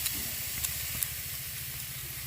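Grated coconut dropped into a hot wok (kadai) while making filling for bhapa pitha, giving a steady soft hiss and sizzle with a low rumble underneath, a few faint clicks, no talking.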